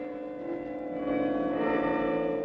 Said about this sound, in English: And joyously the bells rang out, rang out their old nursery rhyme tune after 19 years of silence.